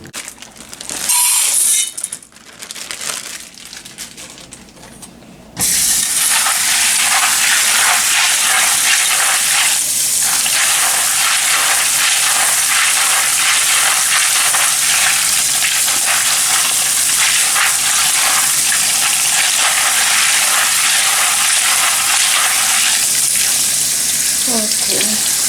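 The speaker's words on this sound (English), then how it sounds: "let's wash our beans." Running water pours steadily from a kitchen tap as beans are washed, a constant loud rush after a few seconds of quieter handling noise at the start.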